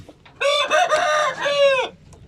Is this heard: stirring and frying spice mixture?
no